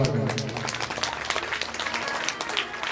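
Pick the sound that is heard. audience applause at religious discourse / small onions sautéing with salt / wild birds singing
audience applause at religious discourse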